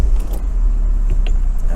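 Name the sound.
1999 Saab 9-3 convertible engine starting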